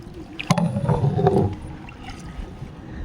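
A small boat moves through still water, with soft paddle splashes and gentle gurgling close by and a brief knock near the start, and no one speaking.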